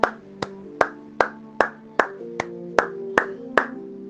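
A church congregation claps in steady unison, with sharp evenly spaced claps about two per second over sustained musical tones and no talking.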